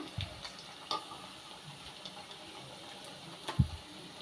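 Cabbage pakoda fries in hot oil, a soft steady sizzle with a few faint bubbling pops and light clatter, close but quiet.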